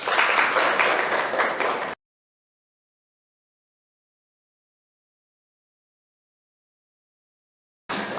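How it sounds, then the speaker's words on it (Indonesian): Students in a ninth-grade civics classroom give a burst of group clapping for about two seconds, lively and close, then the sound cuts to silence before a brief return at the end. "kasih tepuk tangan buat kalian masing-masing"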